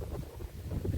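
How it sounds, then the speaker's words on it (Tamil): Strong wind buffets a garden, a rough low rumble of gusts pressing on the microphone for about a second, with no voices. "காற்று ஆனால் செம்ம காற்றுங்க"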